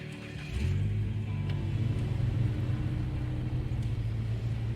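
A truck engine in the off-road driving game SnowRunner starts up with a low mechanical rumble and settles into a steady, close drone with faint creaks and clanks.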